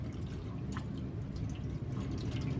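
Water runs steadily out of a pig watering system pipe, a continuous close splashing flow with faint dripping on top and no talking.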